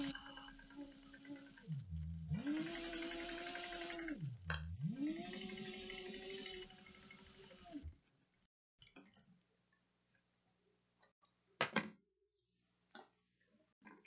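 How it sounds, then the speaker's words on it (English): Sewing machine top stitching a vinyl cross-body sling at 3/8 inch with back stitching, a steady close whirring run in two bursts, then quieter clicks and taps. "top stitch baste it together or sew it together 3/8 of an inch"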